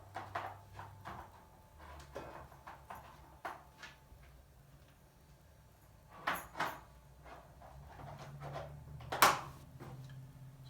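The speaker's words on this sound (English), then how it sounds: "When it arrives, the door unlocks, and we can then open the door" The door of a MicroWriter ML3 lithography machine unlocking and opening, a series of clicks, latch knocks and sliding thumps over several seconds with a steady mechanical hum underneath, one sharp loud clack near the end.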